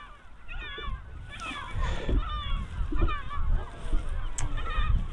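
Gulls call repeatedly from close by on the west coast shore during sea trout fishing, a series of harsh honking, squealing cries in bursts over a background of wind and lapping water.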